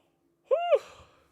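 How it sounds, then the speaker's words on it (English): A person gives one short, breathy, voiced yawn that rises and falls before trailing off into an exhale, close and alone in silence. "got me yawning, man."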